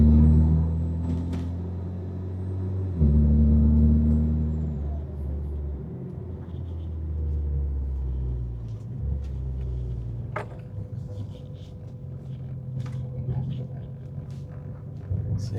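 A Mitsubishi Evo X pulls up a street through the gears, a loud low engine drone that steps down at each shift, then easing into a quieter rumble with faint clicks inside the cabin.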